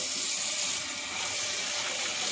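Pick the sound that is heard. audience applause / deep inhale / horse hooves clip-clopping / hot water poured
hot water poured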